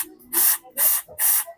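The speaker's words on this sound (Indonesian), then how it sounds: "tinggal kita semprot saja pakai karbu cleaner, tinggal kita lihat semburannya" Carburetor cleaner sprayed through the main jet of a Suzuki Spin 125 scooter carburetor: three loud, close, hissing aerosol bursts, each about a third of a second, separated by short pauses.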